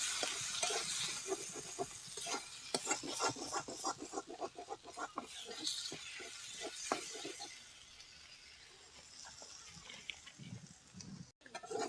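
Chopped tomato and spices frying in a little oil, a close crackle and sizzle mixed with quick scraping and stirring strokes in the pan that ease off toward a quieter end.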